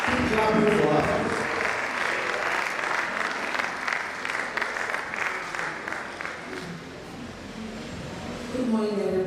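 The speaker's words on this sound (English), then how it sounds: "Keep clapping for her." An audience claps steadily for a guest lecturer at an annual registry lecture, a dense sustained applause filling the hall, with some voices mixed in beneath and a speaker starting to talk near the end.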